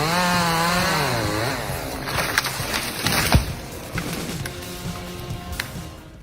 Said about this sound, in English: trying to cut it with a chainsaw